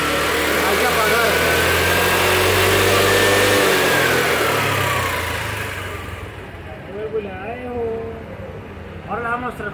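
A Kymco Agility 125 scooter with a faulty light controller revs its engine steadily, then the revs drop and it dies out, leaving only faint handling noises.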